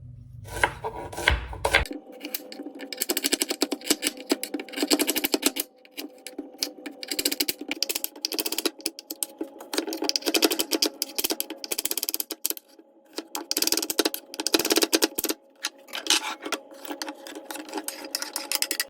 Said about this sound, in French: je coupe mes oignons en lamelles